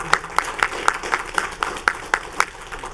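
Board of governors members applaud with a sparse, steady clapping at a moderate distance, the evenly spaced claps sounding in a brief, polite burst.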